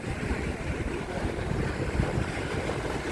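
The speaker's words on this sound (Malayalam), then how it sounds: "നല്ല തിരയുണ്ട് കടപ്പുറത്ത്." Ocean waves wash onto a beach at night in a steady, rumbling roar mixed with heavy wind buffeting, with no distinct breaks between waves and no voices.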